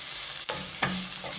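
Onion sautéing in a pan until browned, a constant bright sizzle with two quick scraping stirs of a utensil, close and alone without voices.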